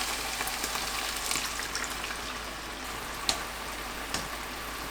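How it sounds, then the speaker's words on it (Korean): Cod simmering in a garlic and seasoning sauce over medium heat while being basted, a soft steady bubbling sizzle with a couple of light utensil taps. "마늘과 양념 붓고 중불에서 양념을 끼얹어 가면서 끓여주세요."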